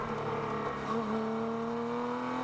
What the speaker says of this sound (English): At the limit of traction, the car understeers and drifts across the track off the edge